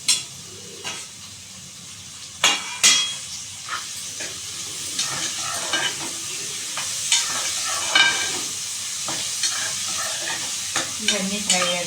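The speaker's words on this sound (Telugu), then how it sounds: "ఒక నిమిషం ఫ్రై అవ్వాలి." Vegetables with tomato pieces frying in a pan, a hissing sizzle and steam broken by several sharp clatters of stirring, close and fairly loud, no talk.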